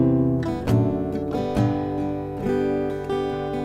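Acoustic guitar picked with a pick through the chords of Parry's hymn Jerusalem, strummed chords with bass notes ringing out, steady and close with no talking.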